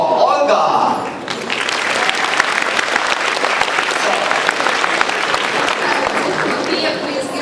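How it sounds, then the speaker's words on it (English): An audience applauds at an interactive science show for children and adults by a German touring troupe, dense and loud clapping from a large crowd after a short spoken introduction, continuing steadily to the end. "One applause for Olga."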